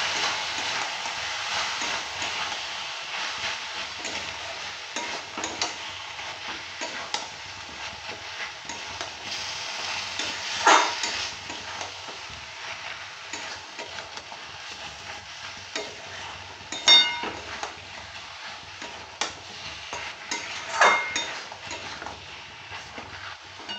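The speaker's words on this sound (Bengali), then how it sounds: "ভালো করে মশলাটা একটু কষিয়ে নিচ্ছি 5 মিনিট।" Meat masala moistened with a little water, frying for a mutton curry: a low, quiet sizzle with occasional scrapes and taps of a spoon stirring the pan.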